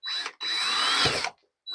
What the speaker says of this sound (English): grab our drill, start drilling a few little pilot holes in here